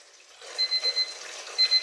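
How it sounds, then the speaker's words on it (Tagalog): An alarm goes off indoors, a run of short repeated electronic beeps in a quick steady rhythm, pausing briefly before another burst of beeps starts up. "Ayan, nag-alarm na."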